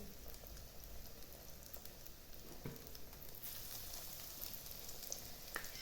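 Breaded chicken gizzards sizzle steadily in hot oil, a dense crackling hiss that stays even and close throughout with a few sharper pops and no talking.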